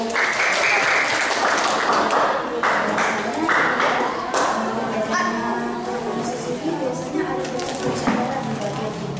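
Children at a school gathering applaud, a loud, continuous mass of clapping with voices and cheering mixed in.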